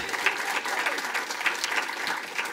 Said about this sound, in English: how about a big round of applause for the 2020 Queen's Court?